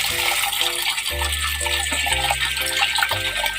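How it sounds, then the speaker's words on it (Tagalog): Sandy clams (halaan) are rinsed under running water, a steady close wash of splashing and pouring that persists throughout, with a sustained tonal hum layered beneath it. "Ito po ay hugasan muna natin kasi puro buhangin po ito."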